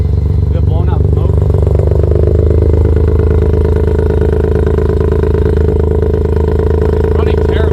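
A Mazda RX7 engine idling roughly after a hard start, with a loud, steady, uneven low rumble throughout and people talking over it.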